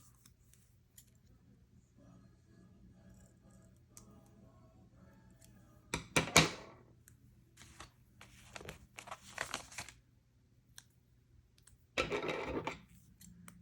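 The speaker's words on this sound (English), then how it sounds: "I'm just gonna cut it. I have scissors here." Scissors snipping through paper for a journal page, with several sharp close cuts in short bursts separated by quiet handling rustles, and a brief spoken word.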